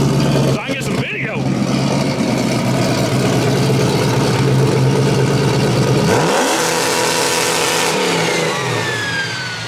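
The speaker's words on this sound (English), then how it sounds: "Dave's doing a two-step test" A 2000 HP Ford Coyote-engined drag car on Holley fuel injection with big boost runs a two-step launch control test at TX2K, rumbling loudly up close, popping and crackling against the limiter, then revving and sweeping away while voices talk nearby.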